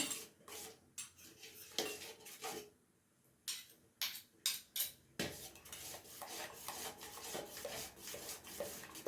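Ragi manni, a Mangalore-style finger millet pudding thickening with ghee, stirred in a pan: a metal spoon scrapes and taps against the pan in irregular bursts, close and clear, with short pauses between strokes and no talk.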